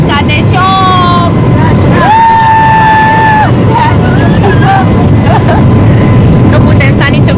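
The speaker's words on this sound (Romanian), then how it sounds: "și-am plecat cu barca prin delta, vom ajunge la Sulina" Motorboat travelling through the Danube Delta from Mahmudia toward Sulina, its engine drone and rushing air continuous throughout, with wavering tonal whines and people's voices heard over the noise.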